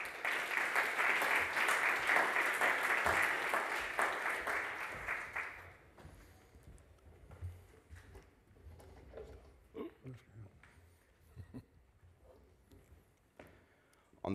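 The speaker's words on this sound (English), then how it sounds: "please welcome them with a big round of applause" Audience members at a conference on AI and the Mittelstand give panelists a warm round of applause that holds strong for about six seconds, then dies away into scattered room noise and faint knocks.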